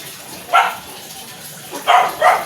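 A dog gives three short barks, one alone and then two close together, over quiet background noise.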